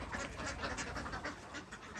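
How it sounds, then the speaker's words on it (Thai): A flock of laying ducks on a farm in Nakhon Phanom, Thailand, quacks constantly in a dense, overlapping chorus, close and moderately loud. "เป็ดที่เรารามาส่งวันนี้เนาะ"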